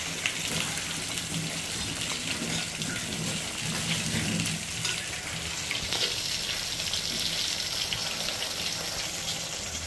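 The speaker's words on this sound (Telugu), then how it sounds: "ఇదిగోండి చేప ముక్కలు వేసి మగ్గించేద్దామండి." Fish pieces simmer in a pan with a dense, continuous sizzling hiss, close and steady throughout, with no talk.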